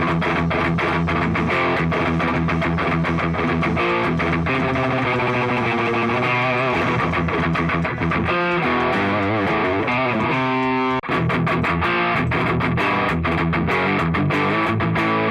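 An electric guitar runs through a Hotone British Invasion Nano Legacy distortion pedal with the gain high, chugging dense metal riffs. The sound is loud, saturated and continuous, with no voice over it.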